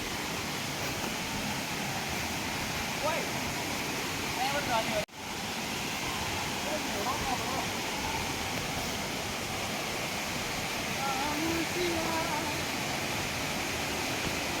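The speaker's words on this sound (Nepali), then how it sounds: "झरना चाहिँ कत्रो छ भन्ने कुरा हो" The Changhe waterfall near Rabi-Opi, Banepa, roars as a loud, constant broadband rush of falling water throughout, with faint voices barely audible beneath it and a single brief dropout partway through.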